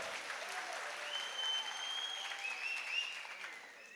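An audience at a Lions International District 317C fundraiser for children with cancer applauds Devdas Kapikad, a dense, sustained roar of clapping from a crowd with faint whistle-like tones running through it.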